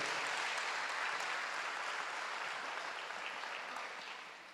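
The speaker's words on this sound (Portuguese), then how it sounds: "dê um aplauso forte ao Senhor. Dê forte esse aplauso ao Rei" A church congregation claps hard and steadily for the Lord, a thick continuous wash of applause that fades gradually near the end, with no talking on top.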